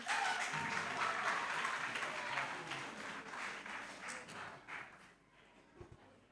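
Audience applause for a candidate at a children's holiday contest elimination round, a fairly quiet, uneven crowd clapping that thins and fades toward the end.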